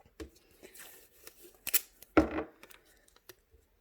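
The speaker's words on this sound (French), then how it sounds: "on met du scotch autour" Masking-style painter's tape is pulled and pressed around craft material on a purple cutting mat, giving sparse close clicks, rips and crinkles separated by quiet gaps.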